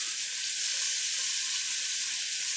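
Shrimp sizzling steadily in hot oil in a pan on a big burner, a constant bright hiss of frying with no pauses, fairly close and alone without talk.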